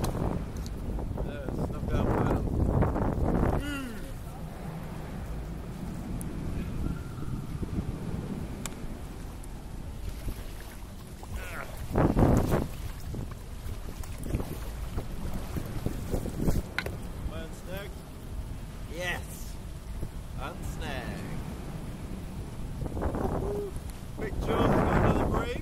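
Wind and rain buffet a kayak at sea under Brighton Pier in the UK, a steady rushing gust noise close to the microphone with water sounds, while people talk at times over it.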